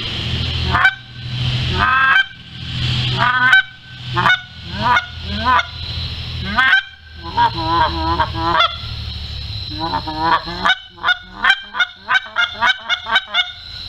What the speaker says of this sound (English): here's just, I mean, a honk and a cluck and a moan